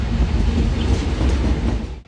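Freight train rolling past an old railway station in Guaratinguetá, a loud, close, continuous rumble and roar of wheels and cars with faint clatter throughout.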